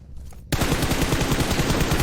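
Rapid gunfire erupts after a brief quiet moment and carries on as a loud, dense burst of shots in a first-person online squad shooter game, with no voices over it.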